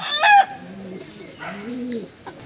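Racer pigeons in a loft give soft, low coos up close, with a brief fluttery sound at the start and a few rolling calls.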